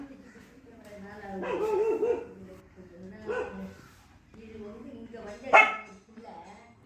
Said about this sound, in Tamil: அங்கே ஒரு டாக் நின்றுட்டுருக்குது. அது அங்கேருந்து சவுண்டு கொடுக்குது